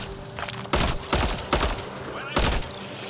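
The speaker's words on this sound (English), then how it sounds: "Y'all just shooting at random things." Gunfire from Mass Effect: Andromeda in rapid, loud bursts of shots with short gaps between volleys, thumping close up over faint background battle noise.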